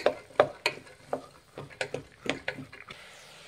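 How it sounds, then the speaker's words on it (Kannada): Lima beans frying in a pan of tempering for avarekalu usli, a rapid series of crisp spoon scrapes and clinks against the pan over a soft sizzle, close and fairly loud. "ಒಂದು 2 ನಿಮಿಷ ಇದು ಒಗ್ಗರಣೆಯಲ್ಲಿ ಫ್ರೈ ಮಾಡಬೇಕಾಗುತ್ತೆ"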